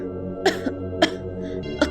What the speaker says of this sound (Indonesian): Lalu perlahan ia terbatuk-batuk, seperti baru saja terjaga dari mimpi buruk.